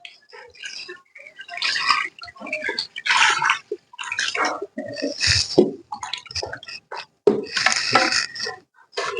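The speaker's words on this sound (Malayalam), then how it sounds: "നമുക്ക് വെള്ളം ഒഴിച്ചു കൊടുക്കാം" Water is poured into a pressure cooker holding salted, washed chicken for cutlets, coming in several splashing bursts with brief pauses and metallic clinks between them, fairly close.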